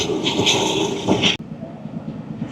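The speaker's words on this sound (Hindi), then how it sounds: "बहुत ही तेज़ रफ्तारी से रावल एक्सप्रेस मुझे लाहौर की तरफ बढ़ रही है।" A passenger train, the Rawal Express, rumbles steadily along the rails toward Lahore with a broad roar that suddenly drops to a quieter hum partway through.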